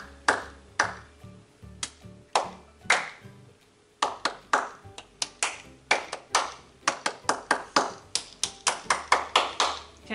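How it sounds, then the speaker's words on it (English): Hands clap a rhythm in a home-school lesson, crisp and close. A steady pattern of sharp claps is followed after a short pause by a quicker, denser sequence with varied spacing. A faint voice is heard briefly. "So I'm gonna clap a rhythm, and I want you to try to copy it."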